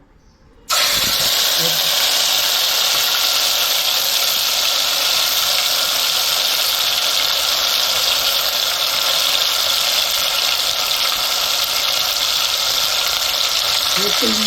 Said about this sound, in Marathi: आता त्याच्यामध्ये आता या आलं लसूण मिरचीची पेस्ट घालूया